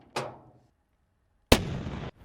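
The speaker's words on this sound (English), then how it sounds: "now we're ready to fire with our tanks again" Two loud cannon blasts from tanks and anti-tank guns in a WW2 tactical strategy game: a sharp boom that quickly decays, a pause of over a second, then a second heavier blast with a rumbling tail that cuts off abruptly.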